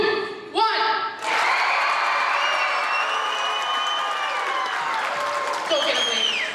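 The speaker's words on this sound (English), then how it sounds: "I need you to cheer so loud that they can hear you all the way in Ithaca." A school assembly crowd cheers and applauds loudly for the swim team, a sustained roar of voices and clapping that rises after a brief spoken lead-in and holds steady to the end.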